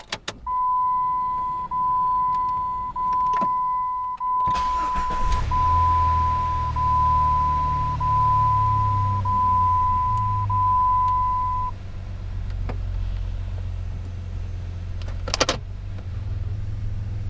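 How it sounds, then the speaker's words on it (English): Jeep WJ with a 4.0-liter engine, fresh spark plugs, a cleaned throttle body and a modified exhaust cranks briefly, catches and settles into a steady, low rumbling idle, preceded by a long electronic chime and a few clicks. "we're gonna fire this thing up with the exhaust mod and the fresh spark plugs and our clean throttle body"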